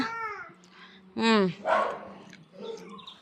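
A dog gives a few short yips and whimpering barks close by, mixed with people talking.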